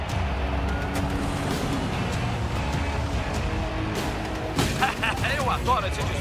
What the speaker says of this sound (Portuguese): Eu adoro esse disparo rápido.